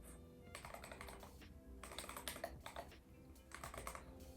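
Close, quiet typing on a computer keyboard, several quick runs of keystrokes separated by short pauses while code is entered in Houdini software.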